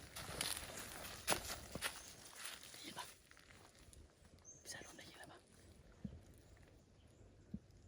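Footsteps of someone walking inside a building, a few soft, scattered thuds and scuffs at moderate distance, faint against a low background hiss with occasional hushed voices.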